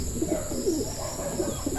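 Pigeons coo in a loft, several low, throaty, rolling calls repeating close by over a steady background hum, with no talking.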